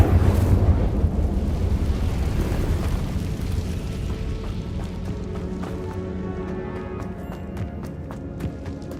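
A roaring whoosh of fire bursts from the Incendio spell in Hogwarts Legacy, loud at the start and trailing off into a softer crackling rumble with faint tinkling game sounds.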